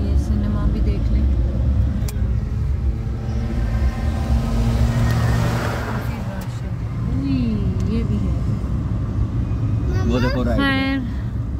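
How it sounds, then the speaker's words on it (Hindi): Night traffic jam on a city boulevard (Main Boulevard, Gulberg): a steady rumble of idling and creeping cars fills the whole clip, with a brief horn-like tone near the end and people talking over it. "ये देखें ट्रैफिक जैम"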